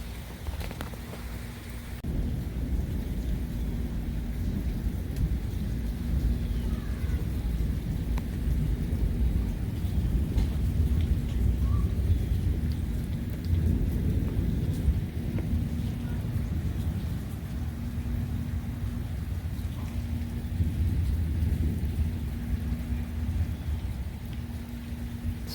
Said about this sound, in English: Some nice departing rumbles of thunder.